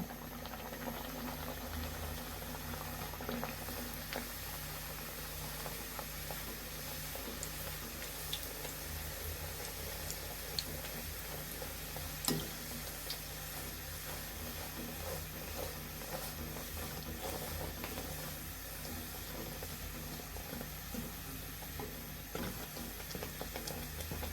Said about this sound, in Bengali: এখন আমরা তেলে লুচিটা দিয়ে দেব আমাদের তেলটি গরম হয়ে গিয়েছে